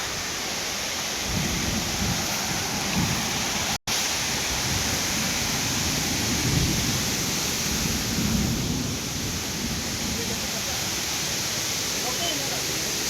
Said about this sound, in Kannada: ಆ ಕಡೆ ಎಲ್ಲ ಗುಡುಗು ಮಿಂಚು